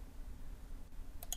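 Two quick close computer mouse clicks sound during work in Inventor CAD software, crisp and brief at the end over a low steady room hum.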